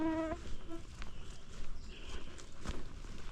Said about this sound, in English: Mosquitoes are a little bit bad up here